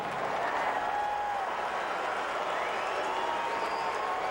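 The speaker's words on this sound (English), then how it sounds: "So you've got Cardinal fans cheering, and there are Cardinal fans here. You've got Cub fans booing" A stadium crowd at a Cardinals–Cubs baseball game reacts as Albert Pujols comes up to bat, a steady dense roar of mixed cheers and boos with scattered clapping that holds evenly throughout.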